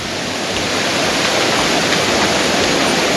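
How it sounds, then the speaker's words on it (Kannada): A hidden waterfall near Dharmasthala, reached by a trek, sends out a loud, dense, unbroken roar of rushing water close at hand. "ಫಾಲ್ಸ್ ಅಲ್ಲಿ ನೀರು ಇರೋ ತರ ಕಾಣ್ತಿದೆ, ಜಾಸ್ತಿ ಸೌಂಡ್ ಕೇಳಿಸ್ತಿದೆ ನೀರಿದು"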